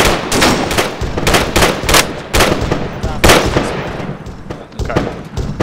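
Rapid bursts of gunfire from the military shooter game ArmA 3 crack in quick clusters, loud and close, with short pauses between volleys and a faint voice in the background.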